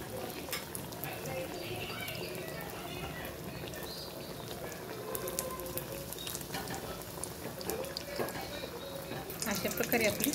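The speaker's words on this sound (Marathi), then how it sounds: "मीडियम गॅसवर ठेवायचं। एक साईड अशी तळली आणि दुसरी साईड तळून घ्या।" Burger tikki fries in a pan over a medium gas flame, giving a steady, moderately loud crackle and hiss throughout that swells slightly toward the end.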